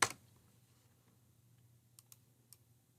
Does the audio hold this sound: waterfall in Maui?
no